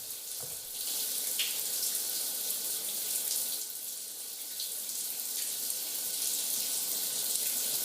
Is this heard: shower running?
yes